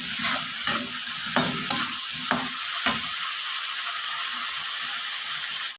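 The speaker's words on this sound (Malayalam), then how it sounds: "ഇളക്കി കൊടുക്കാം" Potatoes frying in a pan for a Kerala-style potato stir-fry are stirred with a utensil: several scraping clacks over the first three seconds ride on a constant close hiss of sizzling oil, which then continues alone.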